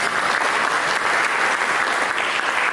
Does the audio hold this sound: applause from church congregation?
yes